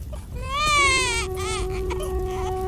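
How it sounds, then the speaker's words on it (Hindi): An animated infant cries in a Hindi cartoon, a loud wavering wail that rises and falls and then settles into a steadier, thinner sob, heard alone without talk. "बच्चे की रोने की आवाज तो मेरे आंगन से ही आ रही है"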